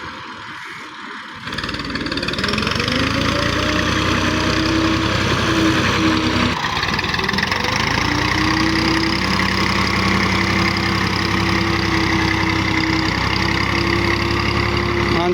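A Massey Ferguson 240 tractor levelling farmland runs its engine loud and close, a steady droning chug that kicks in after a quiet opening moment and holds for the rest of the stretch.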